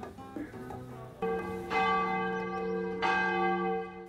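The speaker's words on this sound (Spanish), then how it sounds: "Así suenan las campanas de la Plaza Alta Algecireña cada mediodía." Church bells of the Plaza Alta in Algeciras ringing at midday, with several clear resonant strikes that overlap and decay in a spacious outdoor square, with no talk.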